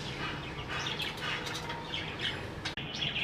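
Pet budgerigars chirp and chatter in a busy, overlapping stream of quick high tweets and squawks, nearby and lively, with a brief flutter or bump near the end and no talking.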